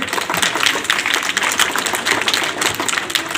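Loud, sustained applause from children at a coaching campus, a dense wash of many hands clapping steadily without pause for the whole stretch.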